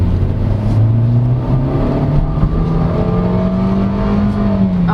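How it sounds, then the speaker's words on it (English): A 2019 Kia Rio hatchback with a 4-speed automatic drives along, its engine droning loud and steady from inside the cabin as the pitch climbs gradually through a gear, with road rumble underneath. "So driving the 2019 Kia Rio"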